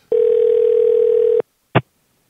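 Telephone dial tone during a redial, a steady loud tone lasting over a second that cuts off sharply, followed by a short pause and a single brief click.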